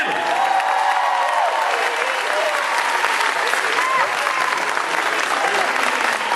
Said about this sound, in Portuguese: Salve de palmas pra esse menino!